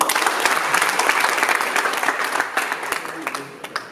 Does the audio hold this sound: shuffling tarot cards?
no